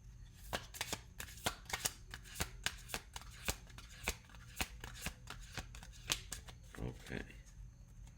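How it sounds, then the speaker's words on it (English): Cards are shuffled close up with a rapid series of crisp riffling snaps, steady and quiet, ending in a brief softer rustle. "One more shuffle, maybe."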